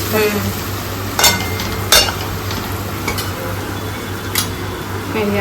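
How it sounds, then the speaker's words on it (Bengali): Onions frying in a pan on a home kitchen stove, a steady soft sizzle running throughout with a few sharp scraping stirs and utensil knocks, fairly close and without talk. "পেঁয়াজটা ভাজা হোক"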